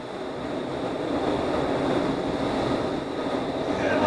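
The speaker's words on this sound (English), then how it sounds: "we're doing a little bit of practice walking in the wind tunnel, and then Scott was kind of back flying" Steady, loud rushing roar of airflow inside an indoor wind tunnel used for body flying, a constant broadband whoosh that swells slightly toward the end, with no talking.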